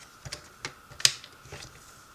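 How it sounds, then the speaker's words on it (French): Cardstock is folded with a paper trimmer, producing a few quiet, scattered clicks and taps with one sharper snap near the middle, all close by and without any voices. "le papier cartonné, on va le plier quand même avec le massicot"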